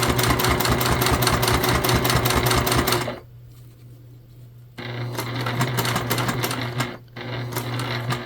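Sewing machine stitching and back stitching across a fabric key fob wallet with elastic, a fast steady mechanical whir with rapid needle ticks that pauses briefly, runs again, then stops for a moment and resumes, close and alone.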